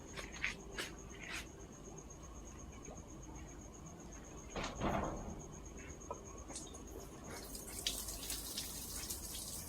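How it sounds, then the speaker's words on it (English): Water dripping from an inflow pipe into a fish pond: small, irregular, close drips fall one after another over a steady background of trickling water and faint insect hum. "These are droplets of water."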